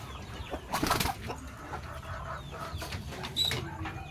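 Backyard pet chickens being fed leftover rice give soft, close clucks and a few sharper calls, with brief bursts of flapping and scratching mixed in, and no one speaking.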